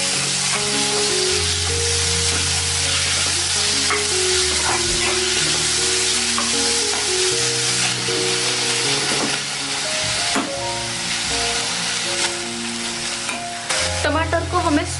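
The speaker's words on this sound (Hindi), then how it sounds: "टमाटर को हमें सॉफ्ट होने तक फ्राई करना है।" Chopped tomatoes frying with browned onions in a pan for mutton keema with liver: a continuous, close sizzle with repeated stirring scrapes, over a steady tonal hum in the background.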